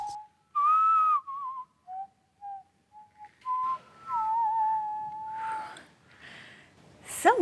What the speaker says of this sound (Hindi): मैंने नहीं बजाई सर, मुझे तो सीटी बजाना आता ही नहीं है।